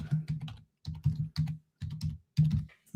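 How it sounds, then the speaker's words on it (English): Loud computer keyboard typed hunt-and-peck style, with close, clattering bursts of keystrokes separated by short pauses, and no voices. "I swear you have the loudest keyboard that I've ever heard."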